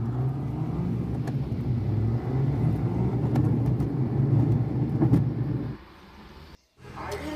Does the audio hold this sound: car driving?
yes